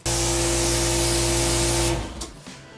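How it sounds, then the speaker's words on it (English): Giraffe Tools UltraFlow electric pressure washer runs with a steady hum and dense spraying hiss, close and loud, then winds down and stops near the end. "Now listen to the pressure washer."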